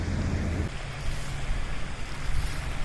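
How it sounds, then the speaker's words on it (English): Waterfall from a feeder creek pouring into a lower pond, a steady broadband rushing wash that holds constant and fairly loud throughout, with no talk. "off to the right is the waterfall"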